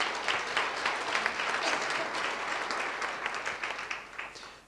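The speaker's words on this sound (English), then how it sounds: "Chris, you deserve a huge round of applause." Applause from an audience in a hall, even and moderately loud at first, then gradually thinning toward the close.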